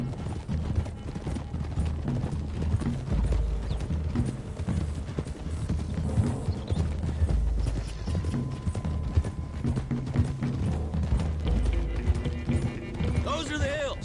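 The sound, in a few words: horse hooves clip-clopping in Red Dead Redemption 2 (video game)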